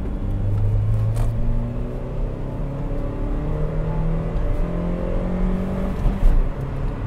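A Toyota Yaris 1.33 Dual VVTi engine revs hard on a road test drive, its loud, steady drone climbing in pitch as the car accelerates, with no talk over it.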